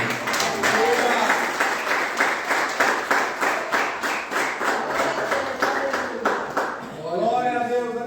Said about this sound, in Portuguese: Aleluia, as palmas do Senhor.